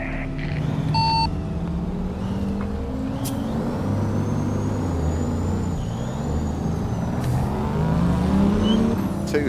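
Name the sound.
two-stroke Freightliner truck engine in American Truck Simulator video game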